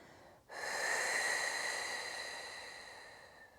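A long, steady exhale through the nose during a kundalini breathing exercise, a soft airy hiss that starts abruptly and slowly fades over a few seconds, close and alone.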